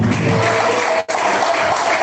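Church congregation applauding together in praise, a loud, dense wash of clapping filling the whole moment with a brief dropout midway.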